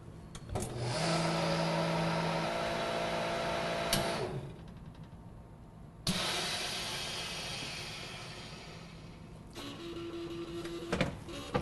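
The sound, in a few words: MVS vacuum sealing machine removing air from bag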